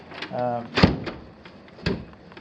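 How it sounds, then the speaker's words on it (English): A storm door that swings open on its own and whose latch is hard to catch gives two sharp knocks or thuds about a second apart, with someone talking over the start. "This door does not stay. Not only does it swing open on its own accord"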